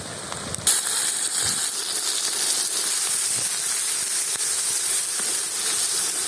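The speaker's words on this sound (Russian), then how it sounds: "Затем я его убираю из масла, и в это же масло первым кидаю лук." Onion thrown into hot frying oil, bursting into a loud, steady hiss and crackle right after a sharp start, sizzling continuously up close.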